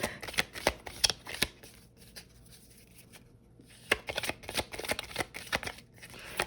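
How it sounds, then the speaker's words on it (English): Tarot cards are shuffled in repeated bursts of quick riffling and flicking, close and fairly quiet, with a short pause midway. "continue to shuffle the cards in front of the camera"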